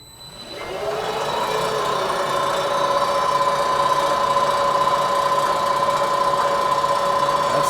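A drill press motor run from a VFD spins up from silence within a second, then holds a steady, loud electric whine with clear tonal hum, running alone with no talk.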